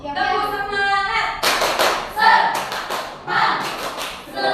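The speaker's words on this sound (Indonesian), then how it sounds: "Sebelum kita memulai pembelajaran hari ini, kita tepuk semangat terlebih dahulu" Classroom of schoolchildren doing a rhythmic 'tepuk semangat' clapping routine, a teacher's voice first, then bursts of patterned claps and thumps in quick groups, close and fairly loud, mixed with children's voices.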